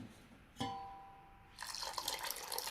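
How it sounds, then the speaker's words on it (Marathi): Water is poured into a pan of fasting-day food, with a sharp splash at first and then a steady, moderately loud stream of pouring and running liquid close by, no talking. "आता याच्यामध्ये आपण आवश्यकतेनुसार पाणी टाकूया."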